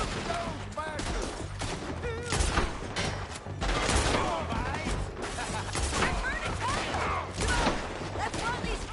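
A Red Dead Redemption 2 town shootout with rapid overlapping gunshots, some near and sharp, others farther off, over shouting voices and continuous battle noise.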